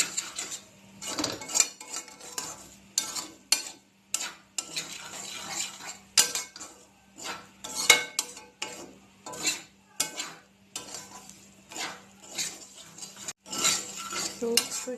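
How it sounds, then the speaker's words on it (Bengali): A metal spoon scrapes and clinks against a pan as semolina is stirred and fried for spicy suji, a rapid irregular run of close scraping strokes over a faint background hum. "সুজিটা ভালো করে এর সাথে ভেজে নেব।"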